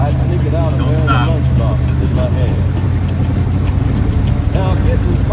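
A Chevrolet El Camino drives through deep water, its engine a steady low rumble under sloshing, churning water, close and loud, while people talk over it.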